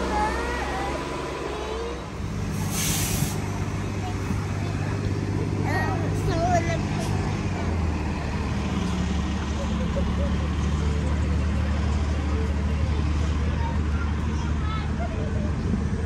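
Traffic and buses pass a bus stop in a continuous low roar of engines, and voices murmur throughout.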